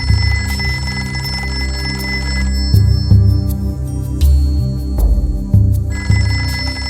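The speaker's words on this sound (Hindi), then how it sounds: "फोन क्यों काट लिया?" A telephone bell rings loudly in repeated bursts indoors, steady and close, with no voices over it.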